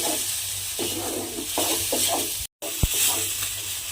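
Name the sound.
sour yogurt and spices being stir-fried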